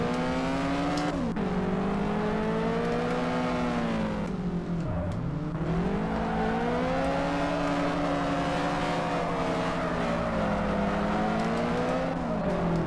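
Engine note of a drifting car in the street racing game Drift Street Japan, loud and continuous, with the revs rising and falling in long sweeps and a deep dip midway, plus faint tire squeal beneath.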